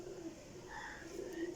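Breeder pigeons coo softly and steadily, low, rounded calls repeating close by with no voices over them.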